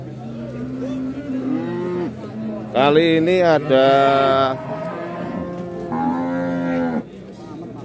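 Cattle at a livestock market in Pati, Indonesia, low up-and-down moos repeating several times close by, with a person briefly talking in between.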